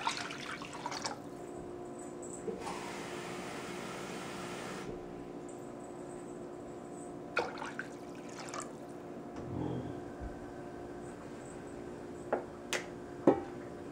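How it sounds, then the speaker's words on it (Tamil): Tamarind water is poured into a pan for garlic rasam in a short stream, followed by soft drips and a few light clinks, all fairly quiet with no talking. "இந்த புளி தண்ணியை நான் ஊற்றுறேன்"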